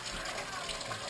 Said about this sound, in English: water going in the pan